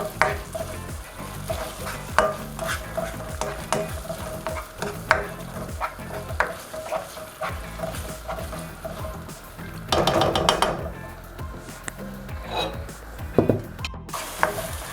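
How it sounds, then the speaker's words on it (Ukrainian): Minced meat and cabbage fry in a pan with tomato sauce, giving a steady close sizzle broken by frequent scraping and clattering stirs, with no talk. "Даю трішки зараз прожаритись."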